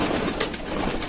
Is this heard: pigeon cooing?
yes